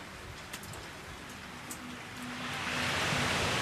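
Rain falls outdoors as a dense, steady hiss with a few sharper drops early on, swelling louder and fuller toward the end, with no voices.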